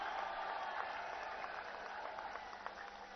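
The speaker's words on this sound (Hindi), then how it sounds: "एक बार जोरदार ताली बजा करके" Crowd clapping at a large political rally for ex-servicemen in Rewari, Haryana, a sustained dense wash of applause at a moderate distance.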